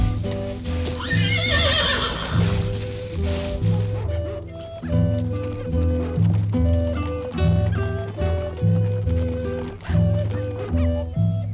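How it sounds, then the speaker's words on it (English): Horses whinny and neigh while hooves clip-clop in a steady rhythm, set against a background of music. "They had splendid horses, some of them distinctively marked like today's Appaloosas."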